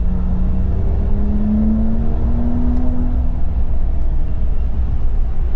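A 2026 RAM RHO truck on 35-inch tires and Blackhawk suspension accelerates hard under turbo boost, a steady loud engine drone with rising pitch and a faint exhaust note over heavy road and cabin rumble.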